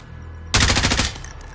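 A Dragon Law sniper rifle fires in a video game, one sudden loud crack followed by a short rattling tail that fades within half a second, close and sharp against a quiet hum.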